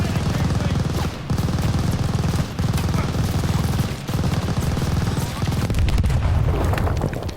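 Grenade blasts and sustained gunfire in the World War II shooter Call of Duty: Vanguard, at Stalingrad. A loud, dense barrage of booms and rattling shots rolls on continuously, with voices faintly mixed into the din.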